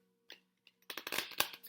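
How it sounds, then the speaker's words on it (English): An oracle card deck is shuffled by hand, a few soft taps at first, then a quick burst of riffling, flapping card sounds, close and fairly quiet. "I'm just shuffling this very well"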